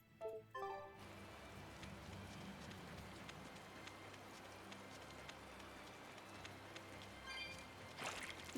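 Earth Rain spell in the video game Tales of Bersia, a dense, steady rain-like patter of falling debris lasting several seconds, with sharper impact bursts at the start and end.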